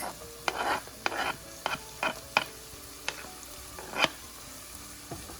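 Sliced beef, onions and garlic frying in a pan for a bean stew, with a soft continuous sizzle broken by irregular scraping stir strokes, close by and moderately quiet, no voices.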